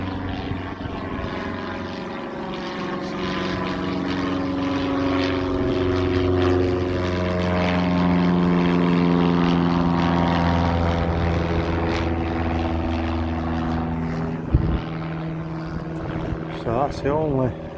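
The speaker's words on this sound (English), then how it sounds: "An aircraft taking off here. Light" A light propeller plane takes off near Warton, its engine a loud, steady drone whose pitch slowly shifts as it climbs, continuous throughout with a brief thump near the end.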